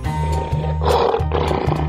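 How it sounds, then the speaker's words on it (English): A lion roars twice in short bursts, loud and near, over a looping children's music backing. "Lion."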